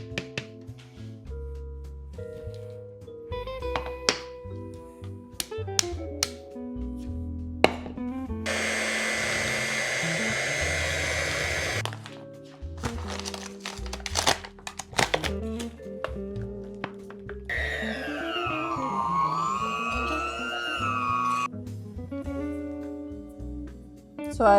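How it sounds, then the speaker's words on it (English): An electric mixer churns thick oat dog-treat dough in short bursts, a loud straining whir that starts and stops between quieter bowl knocks and scraping. "So I've reached a point where it's like too thick for my mixer, but it's not quite dough yet."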